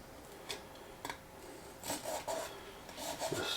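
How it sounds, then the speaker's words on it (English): Masking tape is pressed down and pulled along an MDF particle board, giving soft scattered rubbing and short rasping scrapes in irregular bursts, close and quiet, with no talking. "I just kind of make sure that I press down the edge before I pull the tape down"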